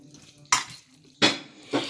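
A utensil stirs minced garlic and nuts in a salad bowl, giving three separate clinking, scraping strokes against the bowl, close and fairly loud, with quiet between them.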